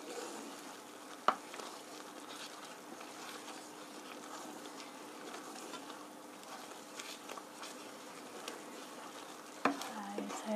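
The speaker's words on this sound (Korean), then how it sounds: "살살 저어주세요." Fusilli in cream sauce with parmesan cheese is stirred gently, giving faint, soft, continuous wet scraping and swishing with a couple of sharper clicks from the utensil.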